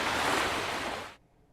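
Ocean swells colliding as square cross waves give a broad, steady roar of surf for about a second before cutting off abruptly, with no voices.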